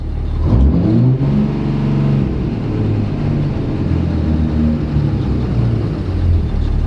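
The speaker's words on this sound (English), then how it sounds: "We just put it in park, so we're going to see if we can rev it" A 5.9 Cummins diesel pickup engine revs hard while sitting in park with a runaway, hanging-up fault. It climbs from idle into a loud, sustained roar with a wavering pitch that holds high and fails to drop back down, and no voices are heard.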